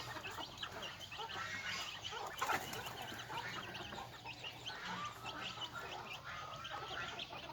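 Red junglefowl, a pure wild strain kept caged for three months, cluck and murmur in a steady low chatter throughout, with dense overlapping calls at moderate distance and no voices over them.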